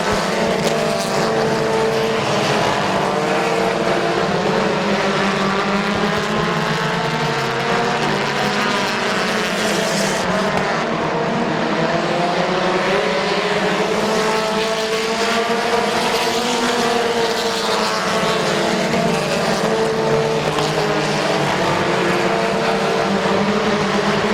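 Race cars at Midvale Speedway in 2016 roar continuously as they circle the track, with a loud, dense engine drone that swells and shifts in pitch as cars pass and jostle for position.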